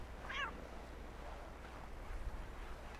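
A cat in the Assassin's Creed 3 video game gives one short meow early on, fairly faint over a steady windy, watery ambient bed.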